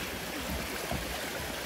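Munising Creek flowing through a cool, shaded canyon at the base of Munising Falls, a steady close rushing of water with no other sounds.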